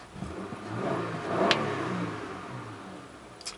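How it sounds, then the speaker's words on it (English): The V6 engine of a 2000 Honda Accord EX, which has its engine light on and a shift problem, revs up in a brief, fairly quiet acceleration, heard alone at moderate distance with a steady underlying drone. "it's V6. Nice sound. A little acceleration."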